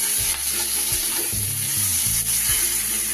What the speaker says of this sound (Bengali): আর দেব একটু কাশ্মীরি লঙ্কার গুঁড়ো। একটু এইভাবে নেড়ে চেড়ে এটাকে নামিয়ে নেব।